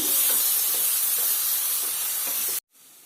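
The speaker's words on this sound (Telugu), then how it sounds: "ఇప్పుడు దీంట్లో మనం చికెన్ వేసుకుందాం వేసుకుని బాగా కలపండి" Chicken pieces go into a hot pan for chicken fry and are stirred, giving a loud, dense, continuous sizzle with faint scraping beneath, cutting off abruptly near the end.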